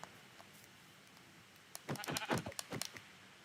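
Sheep bleat in a video game, a short cluster of wavering bleats arriving about halfway through after a quiet stretch of faint background noise.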